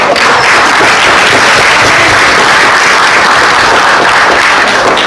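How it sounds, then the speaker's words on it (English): Loud, dense audience applause at a youth engagement event as the state Attorney General is introduced, continuous clapping from a large crowd throughout. "yes, applause, applause."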